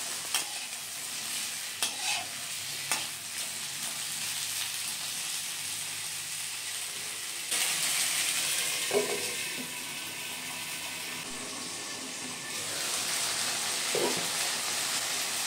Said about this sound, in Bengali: এবারে এগুলোকে খুব সুন্দর করে নেড়েচেড়ে নিয়ে মিশিয়ে নেব